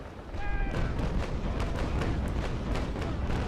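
Frigate cannons fire a broadside in the Naval Action sailing game, a dense rolling run of heavy booms that blur into one sustained rumble, loud and close.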